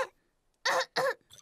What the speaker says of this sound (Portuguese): a tosse do Pedro é contagiosa